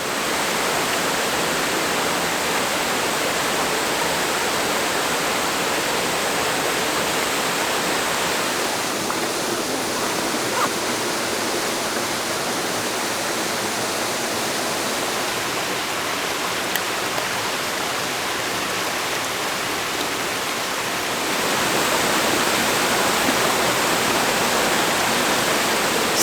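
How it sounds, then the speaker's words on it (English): A big waterfall roars in a broad, unbroken rush of falling water, loud and close, holding steady throughout with a slight shift in intensity partway, and no one speaking. "So this is the waterfall behind me here."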